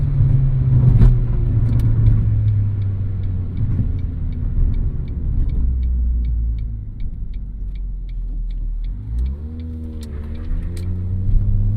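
Interior of a 2005 Ford Focus with about 205,000 miles, its engine droning and rising in revs as the car drives, with a steady rhythmic ticking over the rumble and a pitch swing near the end.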